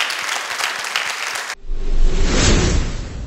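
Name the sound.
audience standing ovation applause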